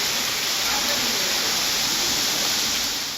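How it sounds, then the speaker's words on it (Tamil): Heavy rain driven by strong wind, a dense, steady roaring hiss that fills the whole short stretch at constant loudness, with no distinct voices on top. "பலத்த காற்றுடன் கனமழை கொட்டியது"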